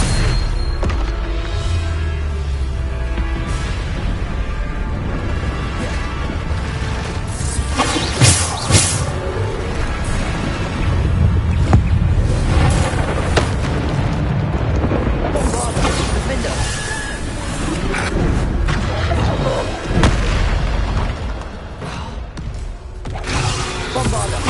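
Bombarda blasting spells in the game Hogwarts Legacy burst in repeated explosive booms and crashes, mixed with whooshes and clattering spell effects in a loud, continuous stream of combat noise.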